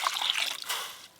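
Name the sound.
water being poured to wash cut taro stems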